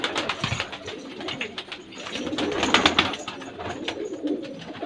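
A kalseera jaaldar pigeon coos in soft repeated throaty calls, close and fairly clear over a light background hiss, with no talking.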